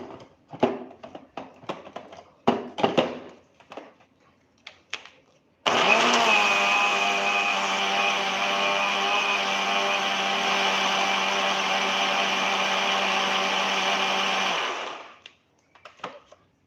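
A kitchen mixer grinder grinds soaked dal and rice with water for dhokla batter. After a few handling clicks it starts up into a loud, steady motor whine lasting about nine seconds, then cuts off and winds down.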